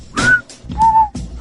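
A person whistles a few short tones, two clear pitched notes rising and falling with breathy gaps, close and fairly loud.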